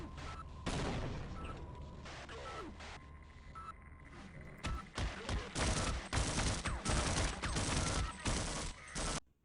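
A grenade blast and loud bursts of fire sound in the video game Half-Life, with an early sharp explosion followed by a dense cluster of heavy impacts.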